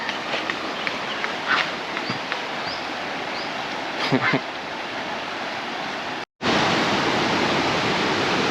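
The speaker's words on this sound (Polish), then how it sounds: "wodospad jest ogromny" Constant roaring rush of a huge waterfall in southern Laos, with a few faint nearby sounds early on; it cuts out for an instant and then resumes.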